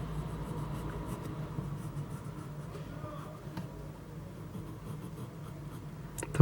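Charcoal pencil shading on paper for a simple drawing, a soft continuous scratchy rubbing close by, steady strokes with no talking.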